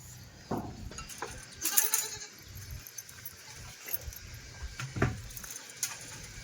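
Goats bleat a few times at moderate distance, short nasal calls scattered over steady outdoor background noise.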